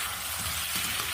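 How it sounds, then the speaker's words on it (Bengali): Cut green bananas frying and being stirred in a hot pan with oil, giving a steady, dense sizzle that continues unbroken with no talk. "এখন এটাকে আমি একটু নেড়ে কষিয়ে নিব।"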